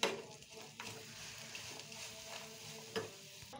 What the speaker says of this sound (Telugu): ఇదంతా కరిగేంత వరకు కలుపుకుందాం